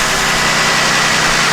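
A Jeep Commander engine idles with a light clicking clatter, a loud, steady, close rumble that runs unbroken with no voices.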